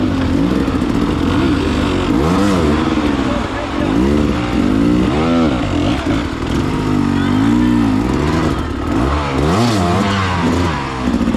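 A dirt bike engine revs and surges in a hard enduro race at Bad Medicine, pitch climbing and dropping repeatedly as the rider pushes through rough terrain, with someone talking over it.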